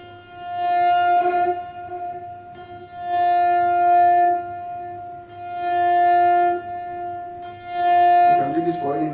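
Electric guitar note repeatedly swelled in with a volume pedal, each sustained tone fading up smoothly from silence and holding, four swells in a row, with a strummed chord at the end.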